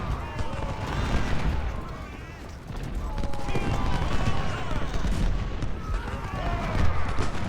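Gunfire and cannon booms from the Civil War strategy game Ultimate General: Civil War, in a South Newport News battle, come as dense overlapping volleys and rumbling blasts that run continuously at fairly loud volume.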